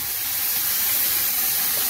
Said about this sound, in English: To that I'm adding a 28-ounce can of San Marzano tomatoes.